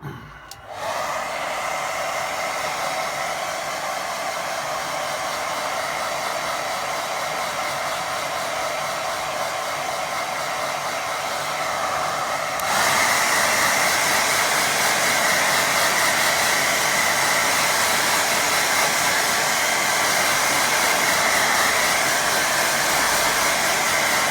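Hair dryer blowing on a watercolour painting, a loud, steady close whoosh that switches on abruptly and runs continuously, stepping up to a higher, brighter setting about halfway through.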